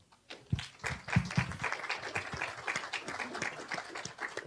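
Scattered hand clapping from an audience at a conference session on life testimonies, irregular and moderately close, with individual claps standing out over a thin murmur.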